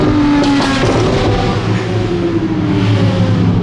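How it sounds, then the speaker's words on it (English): Loud exhaust from a Porsche GT3 RS revs close by in a sustained, rising-and-falling roar with crackling bursts early on, blending with general car-meet engine noise. "It has to be the 2 loudest GT3 RSs."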